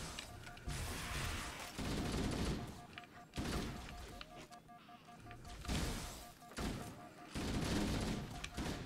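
Halo weapon firing in long, sustained automatic bursts, each lasting a second or more with short gaps between them, carrying a faint whirring tone.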